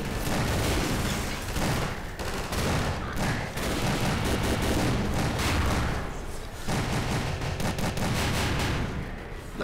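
Automatic weapon with a 25-round magazine fired in Garry's Mod, dense rapid bursts of gunfire with booming reports, loud and nearly continuous, broken by only brief gaps.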